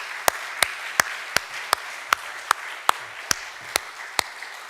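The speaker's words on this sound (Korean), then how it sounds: "우리 다 같이 박수를 하면 참 좋겠습니다" A church congregation at Sunday worship claps in slow, even unison: about a dozen sharp, regularly spaced claps over a soft room background, with no talk.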